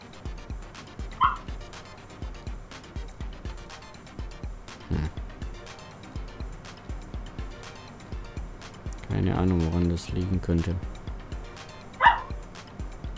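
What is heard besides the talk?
dog barking in the background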